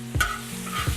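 Meat and potatoes sizzle on a hot griddle over a big flame while a utensil stirs and scrapes in two or three distinct strokes over steady frying hiss.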